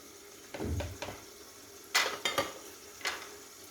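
Onion frying in oil in a pot, with a few metallic clinks and scrapes of a utensil stirring against the pot amid a low background sizzle.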